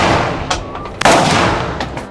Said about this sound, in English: when you pull the trigger, it's going to fire around